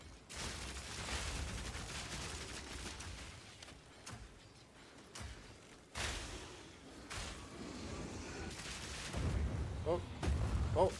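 Heavy grenade blasts boom through a video game in a rapid string of thuds and bursts, mixed with gunfire-like cracks, growing louder toward the end.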